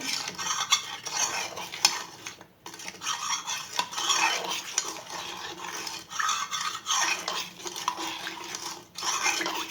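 Continuous close-up stirring of an agar agar powder, sugar and salt mixture, a spoon swishing and scraping around the pot in steady strokes with brief pauses.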